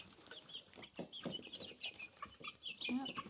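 Barred Rock chickens cluck and chirp softly as they peck at greens, a busy overlapping chatter of short calls that stays fairly faint. No voices.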